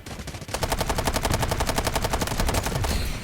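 Rapid automatic gunfire from a QBZ rifle in the video game Delta Force: one sustained, evenly paced burst of closely spaced shots, loud and up close, lasting close to three seconds with no talking.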